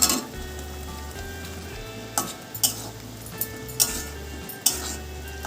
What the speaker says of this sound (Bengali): একটু কিছুক্ষণ সময় ধরে মশলার সাথে আলুটাকে কষিয়ে নেব